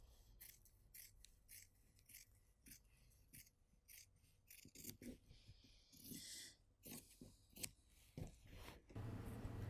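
Scissors snip through fabric while mittens are cut out, with about a dozen sharp, close, evenly spaced cuts that get quicker and denser toward the end.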